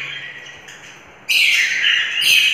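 Cockatiel chicks chirp in a room: thin, high calls start quietly, then turn into a loud, continuous, close chorus of peeping for the second half.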